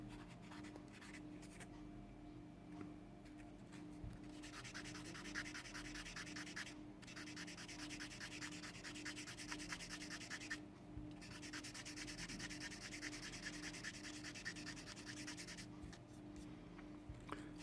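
A plastic Revell 1/24 Porsche Carrera Cabrio model body is sanded smooth by hand: steady, close scratchy rubbing strokes in quick rhythm, broken by a few short pauses, over a low constant room hum.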